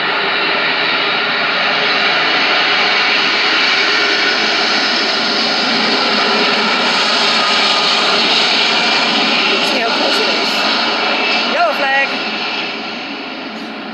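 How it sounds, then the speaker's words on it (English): A loud airplane passes overhead outdoors near an air and space museum, a broad roaring engine wash that holds steady for over ten seconds before easing off. "And I can hear a plane coming now."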